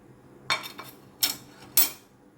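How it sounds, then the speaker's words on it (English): A salad of corn dressed with olive oil, salt and pepper is tossed in a bowl, giving three sharp, fairly quiet clinks of utensils against the dish, alone without speech. "Mix it well."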